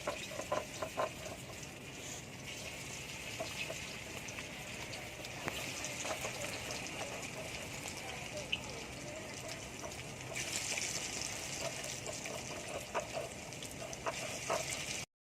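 Drumstick leaf and lentil pakoras deep-frying in hot oil, making a steady, dense crackling sizzle that runs loud and continuous throughout, swelling slightly at times before stopping abruptly at the end.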